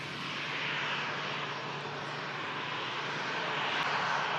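An Emirates airliner arriving at the airport gives off a steady, moderate engine roar that holds evenly throughout with no pauses.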